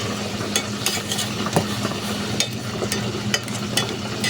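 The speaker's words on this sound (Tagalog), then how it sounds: "Naputok yung mantika" Oil pops and crackles in a pan of spicy pancit canton cooking with egg, a steady close sizzle broken by sharp, irregular bursts every half second or so, with no talking.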